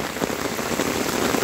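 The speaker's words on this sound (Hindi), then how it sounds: "ये देखिए आवाज सुनिए आप, छाते में कितनी जोरों से लगी हुई है" Heavy monsoon rain drumming on an umbrella in a village, a dense, loud and constant patter of drops close overhead with no voices.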